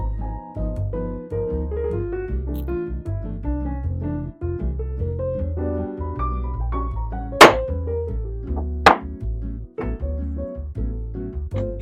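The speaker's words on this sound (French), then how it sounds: "au poinçonnage grâce au poinçon de maître que j'ai obtenu récemment" In a jeweller's workshop, a hallmark punch strikes a gold ring made from a Napoleon gold coin, giving two sharp, separate metallic taps over steady background music.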